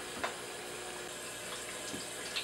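Water flushes through a reverse osmosis/deionization filter stage as a faint, steady rushing flow, with a few soft knocks along the way.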